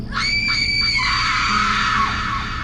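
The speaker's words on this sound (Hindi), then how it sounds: "उस लड़की की चीखें बड़ी ज़ोर ज़ोर से सुनाई देने लगीं।" A girl screams loudly and continuously in a horror-story sound effect, a shrill sustained shriek with wavering pitch that holds throughout, with no other voices.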